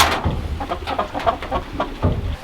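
Several chickens cluck in short, irregular bursts inside a coop on a rainy day, close by and moderately loud, with no talking.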